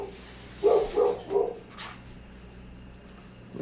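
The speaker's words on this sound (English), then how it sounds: "Which doggo is that?" A dog barks three times in quick succession indoors, moderately loud, with a faint background hum and no talking.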